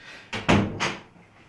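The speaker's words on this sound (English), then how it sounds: "Let me close this door." A door is pushed shut in a home, giving a couple of close, soft thuds and a short bump with no voices over it.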